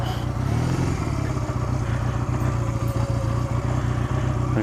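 A motorcycle runs steadily on a test ride after new handlebars have been fitted, its engine giving a continuous low rumble with clattery texture that holds strong and close throughout, no voices over it.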